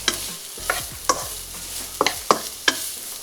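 Onions with garlic sautéing in a pan for a Filipino dish, a steady sizzle under a series of sharp spatula scrapes and knocks against the pan, about seven distinct strokes spread irregularly, close and clear with no talk.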